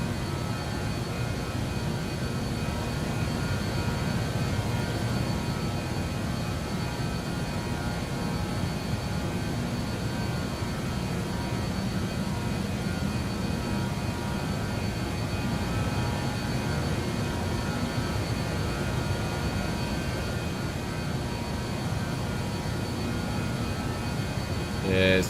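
Airliner engines in Microsoft Flight Simulator pushed to full throttle on a climb out of Indonesia, a steady loud roaring drone holding without letup, with a voice talking over it.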